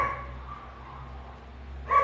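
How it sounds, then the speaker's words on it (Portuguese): A dog barks a couple of times from somewhere nearby indoors, one sharp bark at the start and another at the end, with a quiet room hum between them. "esse cachorro está latindo"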